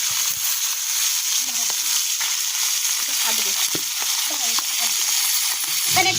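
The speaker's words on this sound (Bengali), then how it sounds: "2 হাত দূরে থেকে হাত লম্বা করে ট্যাংরা মাছ ভাজছে।" Tangra fish fry in hot oil with a loud, steady sizzle and crackle throughout, occasional stirring and spattering pops, and faint speech underneath.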